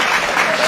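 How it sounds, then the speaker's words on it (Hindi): A brief burst of audience clapping at a comedy show, dense and steady, close and fairly loud, with no talking heard over it. "थोड़ी सी तालियां दे दीजिए"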